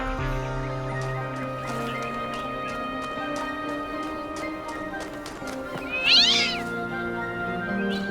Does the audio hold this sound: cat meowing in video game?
yes